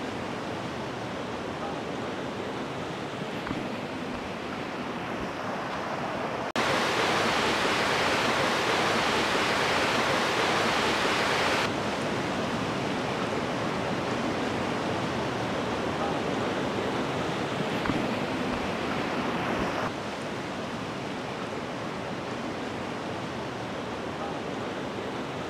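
Water rushes steadily along a tank canal in Mannar, Sri Lanka, a constant broadband roar of flowing water that swells louder for a few seconds partway through, with a voice talking faintly at times.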